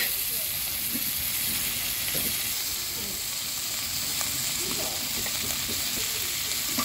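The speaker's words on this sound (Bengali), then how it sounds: "এই মাছটা ভাজা ভাজা হচ্ছে" Fish seasoned with turmeric, chilli powder and salt fries in a pan with garlic, giving a steady, soft hissing sizzle with small pops and crackles throughout.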